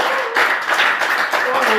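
Short burst of clapping from an audience at a Buddhist temple gathering, loud and close, with voices mixed in.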